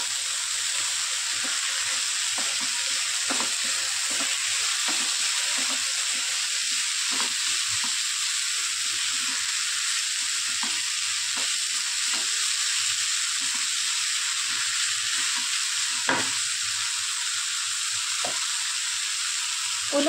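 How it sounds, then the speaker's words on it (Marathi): Telpat wild greens sautéing with salt and turmeric in a pan, a steady soft sizzle with faint scraping stirs scattered through, no talk. "परतून घेते."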